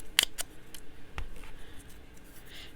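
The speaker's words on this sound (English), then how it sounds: "I just fussy cut some of the fussy cut images out" Scissors snipping paper as images are fussy cut for Christmas ephemera crafting, a few quick close, crisp snips followed by a softer cut, quiet with no talking.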